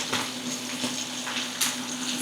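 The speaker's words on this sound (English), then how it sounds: "You hear that sizzling?" Steady, crackling sizzle of steak frying in a hot pan on an induction cooktop, close and continuous with small pops scattered through it.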